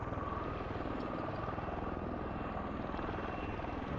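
In a video game, an aircraft is flown like a helicopter, giving a steady, loud rotor-like throbbing drone that holds evenly throughout with no talking.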